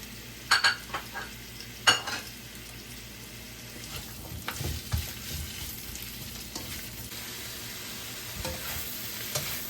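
Onion sizzling in a hot pan for shrimp lomi, a steady frying hiss with scattered scrapes and clinks of stirring, a few sharper knocks near the start.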